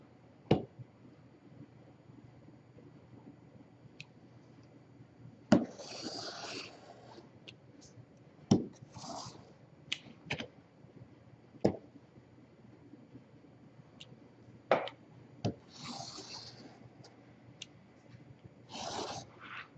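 Scissors cutting a paper strip out of an 8.5 by 11 inch sheet, leaving the sheet's edges: sharp snips and crisp paper rustles come in scattered, uneven bursts against a quiet room, with no talking.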